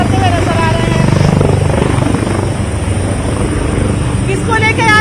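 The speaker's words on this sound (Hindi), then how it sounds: "हेलीकॉप्टर राइड जो बच्चे कर रहे हैं" A helicopter taking children on rides in Jabalpur, India, makes a loud, steady rotor and engine roar close by, while a voice talks over it.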